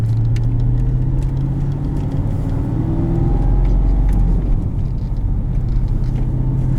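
A 2004 Pontiac GTO with the 5.7 V8, intake, tune and headers-back exhaust with cats, driving with a steady deep engine rumble and road noise throughout.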